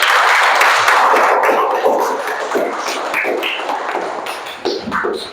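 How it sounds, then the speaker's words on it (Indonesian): A class of eighth-grade students claps together in the classroom, loud at first and then thinning into scattered, uneven claps. "tepuk tangan untuk kelas 8 dan untuk kita semua"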